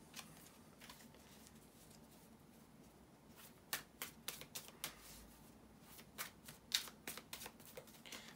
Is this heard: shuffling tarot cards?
yes